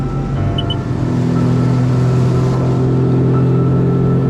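Sea-Doo personal watercraft engine droning steadily and loudly during a cold, wet ride across open water, a constant low roar with wind and spray noise mixed in.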